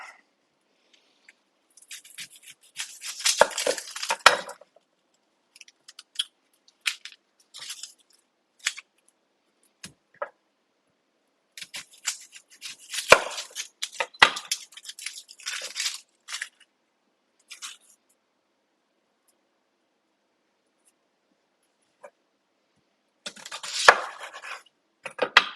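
A knife chops and crackles through an onion on a board, with bursts of close, crisp cutting and peeling sounds broken by long silent pauses.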